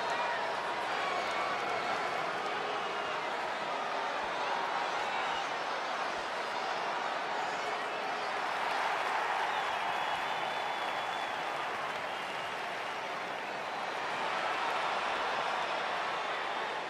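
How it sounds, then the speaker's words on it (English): A WWE 2K20 wrestling arena crowd roars and applauds in a steady, dense wash of noise, fairly loud and continuous throughout, with a commentator's voice occasionally over it. "Listen to this crowd, guys. They're fired up for this one."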